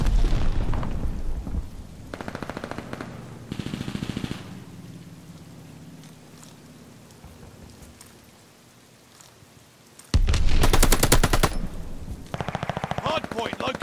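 Gunfire in a shooter video game's hardpoint mode, loud rapid automatic bursts in several stretches separated by quieter rumbling lulls, with voice callouts mixed in.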